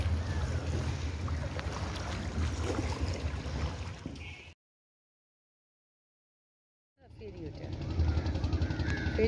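Launch-type motor boat passing far off on the Ganges river, a steady broadband engine drone mixed with wind noise that drops out completely for a few seconds midway, then resumes.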